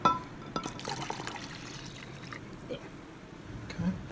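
Cold water pours and splashes into a container in short bursts in a lab, with a few quieter drips and gaps between pours.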